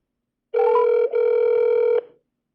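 A telephone tone sounds on a call to a police line, one steady electronic ring lasting about a second and a half with a brief break, loud and clean against silence.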